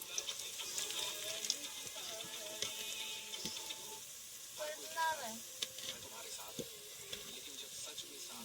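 Onion sizzling and frying in a pan for children's egg biryani after garlic has been roasted, with steady crackling and occasional stirring scrapes, close and continuous.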